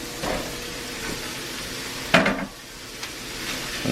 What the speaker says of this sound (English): Just a little bit more oil. And throw the rice in.